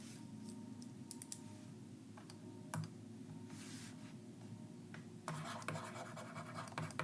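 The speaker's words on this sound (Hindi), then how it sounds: "मैं इसको लिख देती हूं।" Marker or chalk scratching across a board in a teaching setting, a series of short, close scraping strokes in uneven bursts, fairly faint, with no talking.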